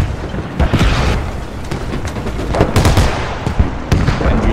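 A C4 charge detonates in a video game, producing repeated heavy booms and crackling blasts that keep going, loud and close.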